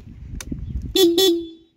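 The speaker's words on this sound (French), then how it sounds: "le klaxon il est vraiment cool, j'avais oublié qu'il était comme ça" A 2021 Honda PCX 125 scooter horn gives two short, loud, close beeps in quick succession after some faint handling noise.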